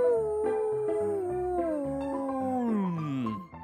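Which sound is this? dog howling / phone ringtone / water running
dog howling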